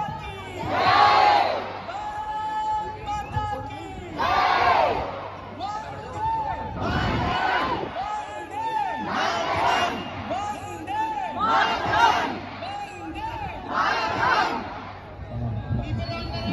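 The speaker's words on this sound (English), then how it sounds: "The master of the ceremony is whipping the crowd into a frenzy as we are only a few minutes away from the launch" A large crowd waits for the Aditya-L1 rocket launch and cheers in repeated frenzied waves, loud shouts and whoops surging and falling about every two seconds over a steady background hubbub.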